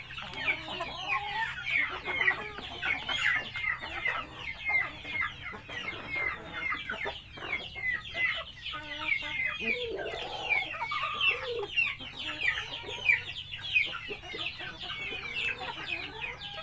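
A flock of chickens clucking and chattering continuously, with busy overlapping calls from several birds nearby over a steady background hum, on a farm that also keeps goats.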